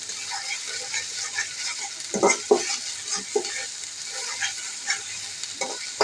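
Ginger paste frying in oil in a home kitchen, a soft steady sizzle punctuated by a few sharper stirring scrapes against the pan, fairly quiet and with no voices.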